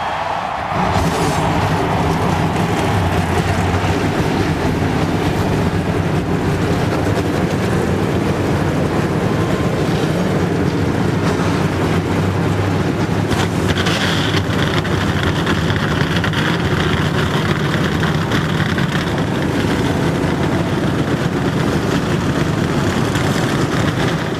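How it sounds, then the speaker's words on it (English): Many NASCAR Winston Cup stock car engines start up and rev together before the 2002 Subway 400 at Rockingham, a loud, steady roar that holds through the whole stretch, with the pitch of the revving shifting partway through. "Gentlemen, start your engine!"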